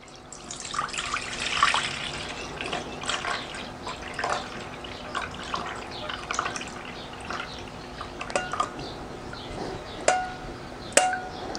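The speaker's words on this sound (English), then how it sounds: "We run our coconut water through a strainer" Fresh coconut water poured through a strainer, a continuous close trickle and splash with scattered drips and small clinks, no talking.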